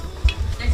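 Spicy monitor lizard curry stir-fried in a wok, with brief close scraping and stirring strokes over a soft sizzle.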